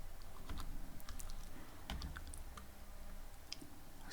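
Someone types Python code on a computer keyboard for a multiple inheritance example, producing soft, close, irregular key clicks in small clusters over a low room hum, with no voices.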